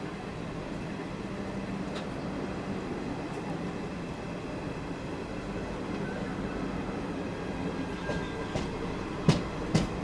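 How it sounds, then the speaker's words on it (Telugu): The Charlapalli–Tirupati weekly express passes on the outer approach to Renigunta Junction, heard as a steady low rumble with soft clickety-clack, then a couple of sharp metallic clanks near the end. "Cherlapalli Tirupati weekly express crossing just Renigunta junction railway station అవుటర్లో."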